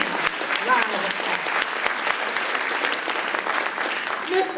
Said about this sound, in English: Let's give them all another resounding round of applause.